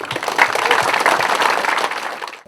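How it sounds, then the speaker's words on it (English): An audience breaks into dense, steady applause for a sponsor during a football locker room renovation presentation, many hands clapping together at full strength before thinning out at the very end. "So a round of applause for Sure Tape."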